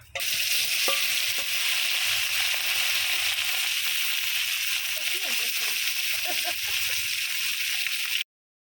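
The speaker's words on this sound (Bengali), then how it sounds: "এখন এই যে বাকি মাছগুলা বন্ধুরা আবার আমি মশমশা করে ভাজা নিব।" Continuous sizzle of small fish frying crisp in oil, with scraping stirs and light splashes, close by, cutting off suddenly at the end.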